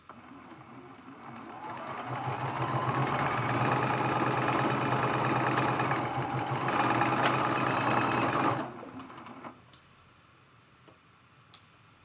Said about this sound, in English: Line that up and sew that seam.